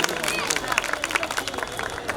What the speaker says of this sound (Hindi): जोरदार तालियां हो जाए हमारी बेटी रुजदा खेरानी के लिए